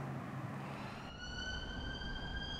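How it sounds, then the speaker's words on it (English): A distant siren wails steadily over low city traffic rumble in Blackpool, faint but continuous, with no one speaking. "I tell you what, those sirens are constant."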